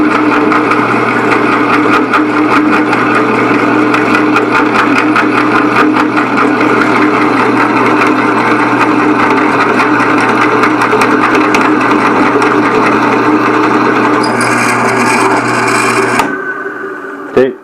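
A drill bit bores through thick steel, a loud steady grinding whine that runs unbroken for most of the time and then abruptly cuts out near the end.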